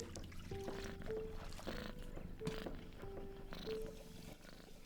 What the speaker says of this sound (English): The cat!